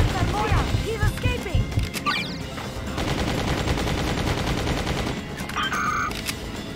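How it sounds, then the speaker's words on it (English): Rapid bursts of gunfire in the video game Just Cause, dense and continuous over a loud action backdrop, with a voice briefly heard early on. "You're getting shot at!"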